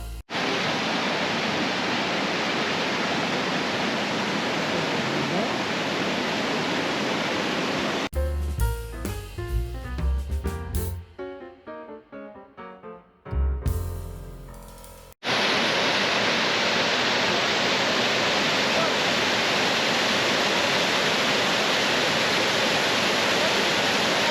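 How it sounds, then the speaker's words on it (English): Sol Duc Falls in Olympic National Park roars as the river drops 48 feet into a narrow moss-draped canyon, a loud, constant wash of water that cuts out midway for a few seconds of unrelated sound, then returns at full strength. "The river abruptly snaps at a right angle to cascade 48 feet into a narrow moss-draped canyon"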